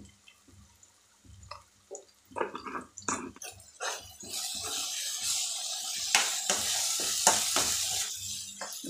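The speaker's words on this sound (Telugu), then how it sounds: "బాగా ఎర్రగా వేగాలి మసాలా." Masala with turmeric and curry leaves frying in a pan while prawns are prepared, a quiet stirring scrape at first, then a loud, steady sizzle that builds and holds with occasional spatula knocks.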